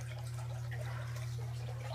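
Water trickles and flows steadily through a homemade aquarium canister filter running smoothly with air purged, a faint continuous liquid sound over a low steady hum.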